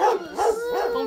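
A dog barks and yips several times in quick succession, close and fairly loud, with whimpering tones between the barks.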